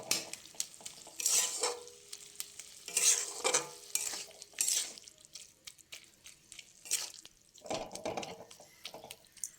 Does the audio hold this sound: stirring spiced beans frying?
yes